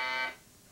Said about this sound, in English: Just under the buzzer, Dan.